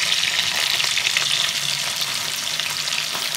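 Large chicken pieces for chicken tandoori cook in a pan on a low flame, giving a steady, close, even crackling sizzle with light stirring scrapes and no talking.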